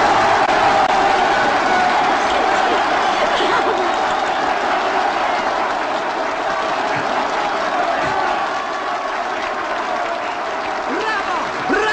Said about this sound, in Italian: 92 minuti di applausi!